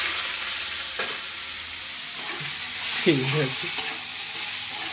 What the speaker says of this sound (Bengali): আর এবার আমি শাকটা দিই।